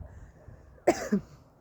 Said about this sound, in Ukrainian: Я кашляю, коли, мабуть, нервую